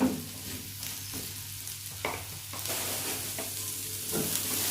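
Ingredients scraped and stirred around a hot dry pan while roasting for Toba-style naniura, a steady close rhythm of spoon strokes over a faint sizzle, with no one speaking.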